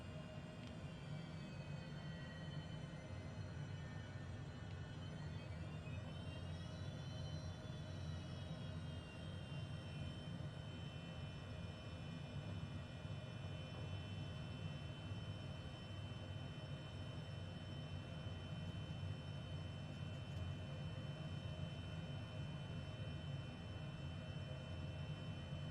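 A HondaJet HA-420 light business jet taxis at Mount Cook in Microsoft Flight Simulator, its engines producing a steady, continuous whine and low roar throughout, with a brief rise in pitch early on and no one speaking.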